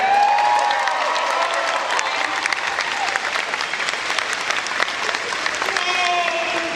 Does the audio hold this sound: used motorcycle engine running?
no